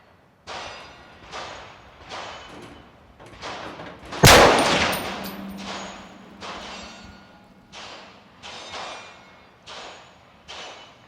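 A single loud, sharp rifle shot from a PSA Sabre M110-style rifle during precision testing, cracking out midway and ringing briefly, set among softer, evenly spaced rustling bursts.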